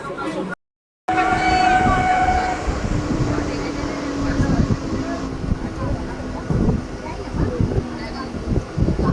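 A train rumbles loudly and continuously nearby at Titagarh, with rattling wheels, a brief horn tone, and voices talking over the noise.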